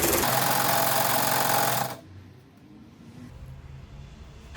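A sewing machine zigzag-stitching fabric sides together for a custom-size drawer organizer: a loud, steady mechanical whir runs for about two seconds, then cuts out, leaving a faint low hum.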